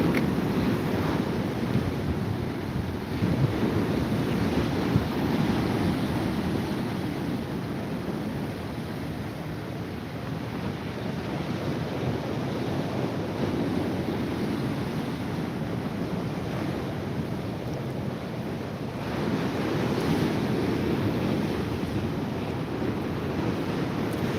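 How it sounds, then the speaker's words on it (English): Sea waves wash onto the shore below a seaside promenade and cliff, making a steady, loud roar with slow swells and no talk over it. "The noise you can hear is actually the sea. It's not the wind, it's the sea."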